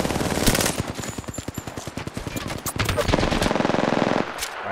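Rapid automatic gunfire from the video game Apex Legends, long sustained bursts of loud rattling shots that stop briefly and then resume, with faint voices beneath.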